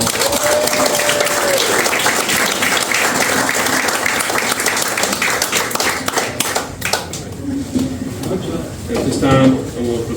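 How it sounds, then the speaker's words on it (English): Loud, close applause at an American Legion post installation ceremony, as a crowd claps for a newly installed officer; the dense clapping thins out later, leaving scattered claps and some voices. "go ahead and give a round of applause to your new officer"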